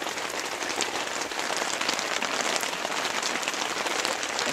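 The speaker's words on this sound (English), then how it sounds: "It's my very first time ever being in a rainstorm." A heavy rainstorm at Yellowstone pours down as a dense, steady roaring hiss of drops pelting surfaces, continuous and close, with no one speaking.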